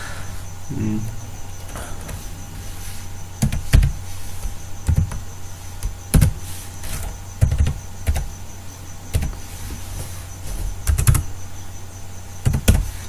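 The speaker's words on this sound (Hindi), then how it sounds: "मैं इसको टाइप कर लेता हूँ।" Computer keyboard typing while filling in an online maritime exam application form: scattered, fairly faint key clicks and short bursts spread over the stretch, with a low steady background hum.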